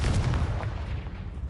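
A Confringo blasting spell bursts in Hogwarts Legacy as a brief, dense rumbling explosion, loud and close, fading slightly over its short length.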